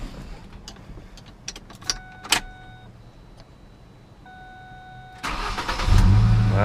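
A Ford Ranger engine starting after a battery replacement: quiet clicks and key sounds first, then a brief crank and a strong, close engine catch that settles into a loud idle, with no talking.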